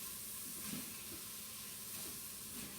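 Onion sautéing in a pan for chicken tikka masala, giving a faint, steady hiss and sizzle with soft crackles, close by and with no talking.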